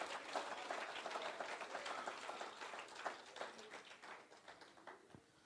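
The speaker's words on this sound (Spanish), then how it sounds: "Dale el aplauso fuerte al Señor." Congregation applauding during a church sermon, a steady wash of many hands clapping, faint and distant, continuing for several seconds without speech.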